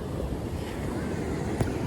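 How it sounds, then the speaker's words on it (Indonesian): Strong ocean waves roll onto a wide sandy beach on the southern coast of West Java, with a constant loud wash and heavy wind buffeting the microphone. "Ombaknya lumayan kencang teman-teman."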